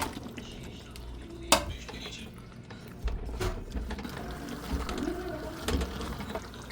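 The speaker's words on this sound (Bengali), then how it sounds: "এখন এর মধ্যে যে ভাজা মুরগি মাংস দিয়ে দেব।" Fried chicken is stirred into spice paste in a pan with scraping and light clattering, one sharp metallic clank near the start, then quiet sizzling and shuffling.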